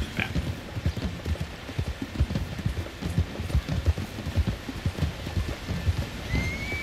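A horse's hooves clip-clop at a steady walking rhythm in the Red Dead Redemption video game, soft and moderately near, with a light rain-like background wash.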